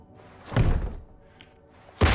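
A door in the tactical shooter Ready Or Not swinging open with a dull thud and a soft whoosh, followed by a second heavier thump near the end, close by and without talk.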